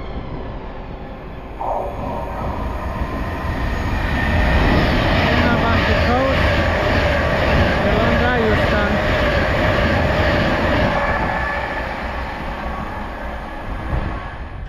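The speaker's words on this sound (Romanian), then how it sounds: "Tren LNR clasa 350 către aeroportul" An LNR Class 350 electric multiple unit passes through Stechford station, a loud steady rumble and clatter of wheels on rails that swells to a peak, then fades as the train moves away, with a voice briefly heard over it.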